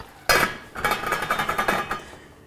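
Canned tomatoes dumped from a can into a cooking pot for pasta sauce, a sudden loud wet splat followed by a quick run of scraping, tapping clinks of metal on the pot.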